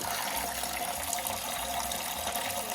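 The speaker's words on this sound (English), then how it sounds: "And then I'm gonna put some water in it to the water level I wanna put it in." Tap water pours steadily into a canning pot, a constant rushing hiss with no pauses and no voices.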